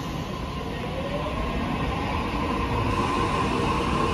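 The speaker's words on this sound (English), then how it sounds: "we have a T3 City Circle service departing" A T3 City Circle train pulling away from a platform at Central station, a steady, loud rumble of rolling wheels that holds level throughout, with a faint high whine and no voices.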